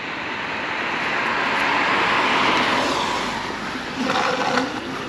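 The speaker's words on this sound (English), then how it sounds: "Okay, let's turn the scooter on," A Varla electric scooter's dual motors whir up after being switched on following a ride in the rain, a loud steady whine that swells and fades, with a brief rougher burst near the end.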